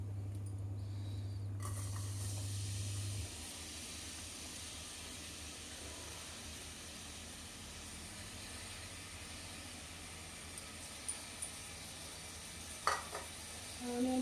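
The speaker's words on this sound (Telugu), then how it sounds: "ఆయిల్ వేడెక్కిన తర్వాత ఆనియన్స్ వేస్తున్నానండి" Onions dropped into hot oil for chicken curry fry with a soft, steady sizzle at close range, a low hum fading early and a few light utensil clicks near the end.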